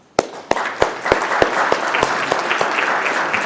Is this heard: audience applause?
yes